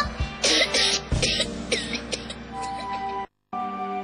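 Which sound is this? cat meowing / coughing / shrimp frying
coughing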